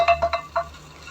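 Half-cooked rice being stirred in a rice cooker, a few quick scraping and clinking strokes of a utensil against the pot, close and brief, with a soft simmering hiss underneath.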